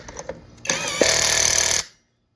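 A power tool, likely an impact wrench, tightens a nut onto a go-kart or lawn mower wheel in one sustained, loud whirring burst of about a second after a few faint clicks, then cuts off abruptly.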